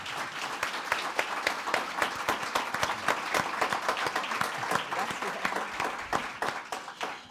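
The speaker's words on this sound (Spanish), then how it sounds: "Me gustaría que les diéramos un fuerte aplauso." An audience claps warmly at a conference on Oaxacan copal woodcarving, with individual claps distinct within the steady applause, which tapers off near the end.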